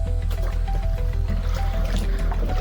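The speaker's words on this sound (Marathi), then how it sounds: "आता छमरी त्याच्या पप्पासोबत पाणी काढते हौदातलं." Water drawn from a household water tank with a container, close wet sloshing and splashing with drips and trickles in a busy, continuous rhythm.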